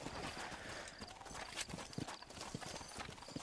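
Horse hooves clip-clop steadily in Red Dead Redemption, a rapid, close trot of hoofbeats over a rough outdoor background, with faint hints of a whinny and no speech.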